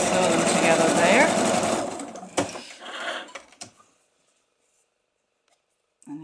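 Sewing machine stitching two cushion patch squares together, a dense steady mechanical whir lasting about two seconds before stopping, followed by a few faint handling knocks and near silence.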